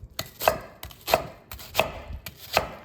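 A knife chops an onion on a cutting board with four crisp, evenly spaced strokes, close and distinct against quiet.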